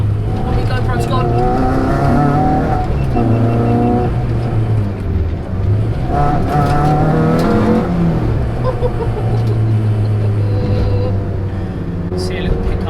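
A Renault Clio 182 engine pulls hard under acceleration in third gear, a loud in-car drone climbing steadily in pitch with brief dips, heard close from inside the cabin while someone talks over it.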